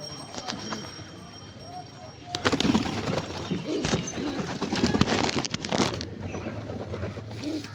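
Antique-breed pigeons coo softly indoors in a low, repeated murmur, while voices and handling noises rise over them partway through.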